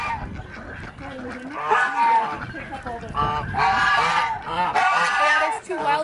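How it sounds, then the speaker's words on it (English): Two wild geese honk repeatedly near a goat farm, loud nasal calls in irregular bursts that grow busier toward the end, close by, with some voices around them. "There's 2 wild geese in there."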